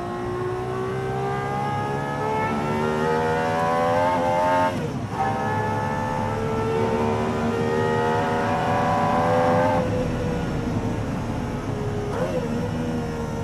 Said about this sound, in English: I'm gonna let you just listen to the voice of this Cosworth GMA V12 for a lap.